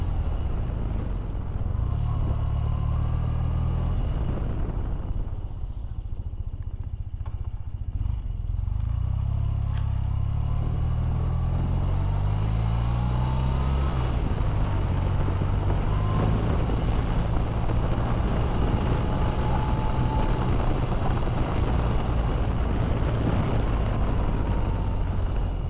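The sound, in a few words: BMW Airhead motorcycle riding on test ride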